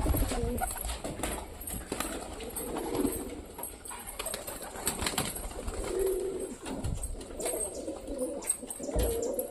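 Pigeons coo softly on a veranda in repeated low murmurs against a faint outdoor background, with occasional small knocks and rustles.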